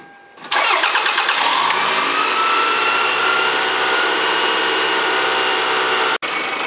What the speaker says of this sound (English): So I've been running the car for about 15-20 minutes now